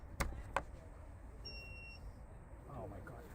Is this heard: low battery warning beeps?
yes